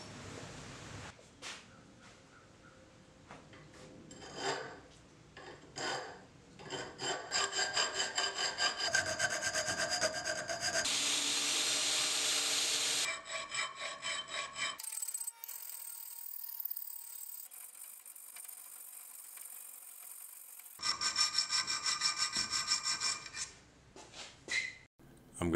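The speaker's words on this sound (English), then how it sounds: "it's time to bring it to its more exact shape using files" Hand files work the blade of a knife after power-tool roughing, near and loud rasping strokes in uneven bursts, some long and steady, others short and choppy, with quiet pauses between.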